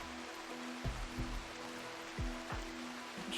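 Soft, steady rain hisses in the video game RimWorld, a faint continuous wash with a few dull low thumps scattered through it.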